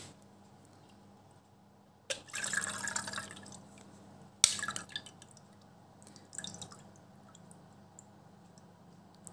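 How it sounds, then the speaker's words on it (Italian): Water being drained from a Stylpro Squeeze blender, quiet drips and splashy pours in a few irregular bursts against a near-silent background. "scoliamo l'acqua."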